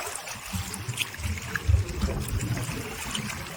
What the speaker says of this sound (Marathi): आता भरती चालू आहे आणि खाडीला सुद्धा जोरदार पाणी आहे बघा